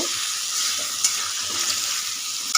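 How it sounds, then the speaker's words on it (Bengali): Onion and potato pieces for a fish and vegetable curry fry in a pan, a loud continuous hissing sizzle with a couple of sharp crackles. "সবজি মাছের তরকারিটা হচ্ছে পেঁয়াজ আলু দিয়ে ভাজা হচ্ছে"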